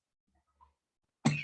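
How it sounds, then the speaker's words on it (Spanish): A single cough bursts out near and loud after a faint throat sound, with quiet around it. "Me dio tos"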